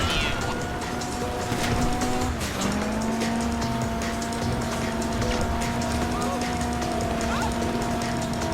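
A getaway car from a Fleece bank heist in Grand Theft Auto Online drives steadily with a constant engine drone and a brief tire squeal, voices talking over it.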